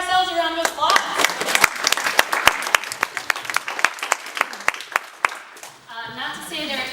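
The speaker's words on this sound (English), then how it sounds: "So I think we should just give ourselves a round of applause." A room full of people at a New York State movement strategy meeting gives themselves a round of applause, starting as scattered individual claps that build into a crackling burst before fading, with speech at the start and end.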